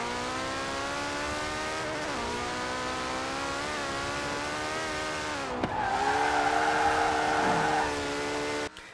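A stupidly fast 1,400-horsepower car in Forza Horizon 4 revs hard through rising, stepped engine pitches as it accelerates, loud and continuous, ending with a brief roar and cutoff.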